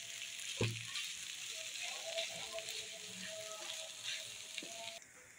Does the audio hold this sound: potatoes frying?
yes